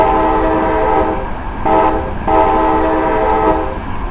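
Train horn signal in the Train Simulator 2015 video game: a loud, sustained chordal blast, then a brief break and a short tone, followed by another long blast that fades at the end.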